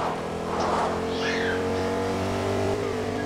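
A car engine drives steadily in Fortnite, a continuous droning hum with slight revving that persists throughout, while voices chatter faintly over it.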